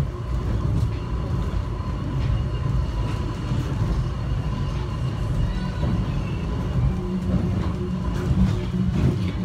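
Airport subway train heading to Terminal A, a steady loud low rumble and rattle of the car running on rails, with brief clatters and no talk.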